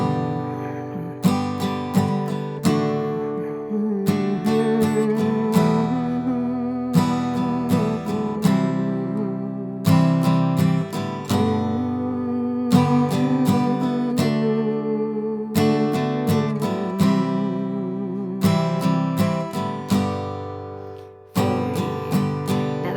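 A guitar song played at a brisk tempo, with rhythmic strummed chords and picked notes sounding steadily and close throughout, with short breaks between phrases and no talking.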